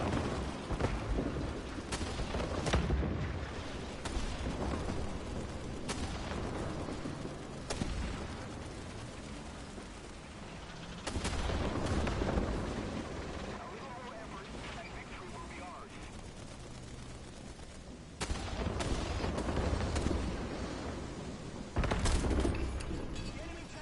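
Tank cannon fire in War Thunder, several loud, booming blasts spaced several seconds apart over a steady background rumble, each with a sharp onset and a lingering tail.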